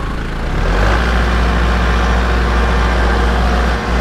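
A tractor engine drones loud and close while planting a new lawn, a constant low rumbling idle with heavy bass that holds steady for the whole stretch, broken only by a brief dip near the end.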